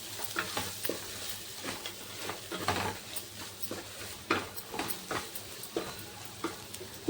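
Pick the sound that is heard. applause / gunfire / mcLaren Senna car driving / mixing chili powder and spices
mixing chili powder and spices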